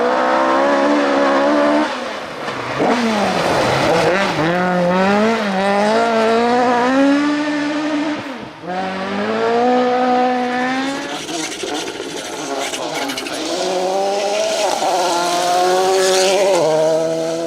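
Rally car at the Plains Rally roaring past with rising and falling engine revs through gear changes, loud and close, a brief dip midway before the engine screams on again, with no talk over it.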